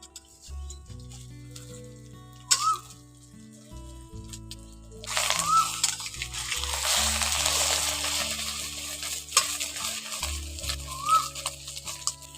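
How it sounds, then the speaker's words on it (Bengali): Egg omelette for a ridge gourd dish being flipped and fried in a pan: a few scrapes and knocks of the turner, then a steady broad sizzle that swells midway and continues to the end, with no talk. "এবার ডিমটাকে উলট পালট করে ভালো করে ভেজে নেব।"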